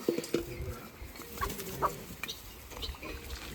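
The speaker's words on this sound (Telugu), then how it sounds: "దేశీ కోళ్ళు అయితే మంచిగా ఉండే" Desi chickens on a farm clucking in short, scattered bursts at moderate distance, with a soft outdoor background and no talking.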